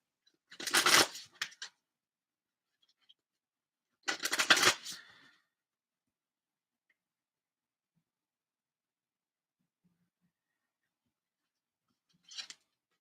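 Oracle cards from the Voice of the Souls deck being shuffled in two short riffling bursts about three seconds apart, then a brief faint flick later, close up in an otherwise silent room with no talking.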